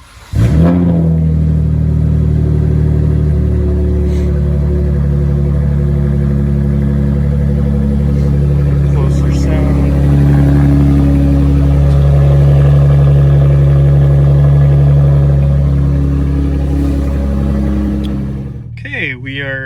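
A 2017 Dodge Charger SXT AWD with a loud aftermarket exhaust idles with a deep, throaty rumble and swells into sustained revving, close and steady, before dropping off at the end.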